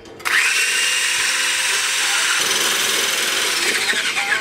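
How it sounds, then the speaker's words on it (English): An immersion blender fitted with a whisk attachment whips cream, a steady high-pitched motor whir that starts abruptly and runs loud and continuous, close up, with a slight shift in tone partway through. "It's like an immersion blender, but it comes with a whisk attachment."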